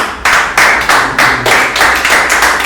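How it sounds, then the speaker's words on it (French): Loud, close rhythmic clapping in a lecture audience applauding a participant, a rapid run of sharp, evenly spaced claps. "Applaudissez pour Michel."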